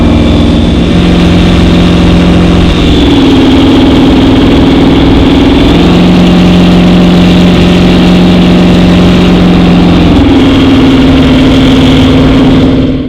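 Jet boat with a big-block 502 engine idling, a loud, close, steady low rumble with a droning tone that shifts pitch slightly a few times, no talking.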